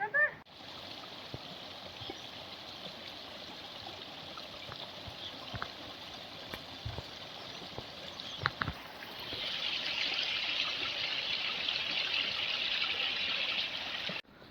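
Mountain stream water flows from oak and rhododendron roots in a continuous trickle, with a brief splash and the flow growing stronger and brighter toward the end, heard alone.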